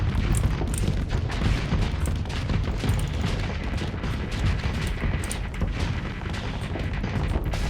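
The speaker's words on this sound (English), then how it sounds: "Let the railgun do its job." Railgun fire in a space combat video game, heard as dense, continuous booming rumble with rapid impacts layered throughout, loud and close.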